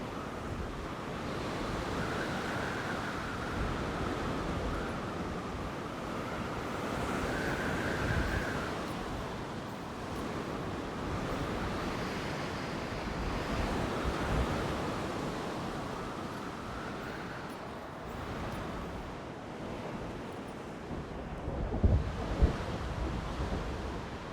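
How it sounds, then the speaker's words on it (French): Storm in Jurassic World Evolution 2, with steady roaring wind and crashing surf washing over one another in a continuous, moderately loud wash that swells and eases over time. "C'est juste une tempête, il n'y a pas de tornade."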